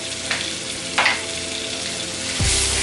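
Cabbage and sausage fry in a pan seasoned with smoked sweet paprika, a constant close sizzle under a few scraping stir strokes. The sizzle swells louder near the end, and no one speaks.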